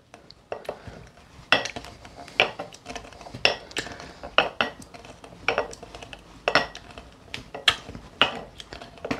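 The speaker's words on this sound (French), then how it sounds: "On va venir pilonner tout ça. On va pilonner tout ça très léger." Bell pepper slices being muddled in a glass for a cocktail, with repeated light, hollow clinks and knocks of the muddler in an irregular rhythm, close and clear.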